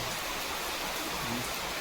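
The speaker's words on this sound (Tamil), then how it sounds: "இங்கே பாருங்கள் எப்படி இருக்குது எப்படி மழை பெய்யும்" Rain falls in a steady, soft hiss, an even wash of sound with no voices.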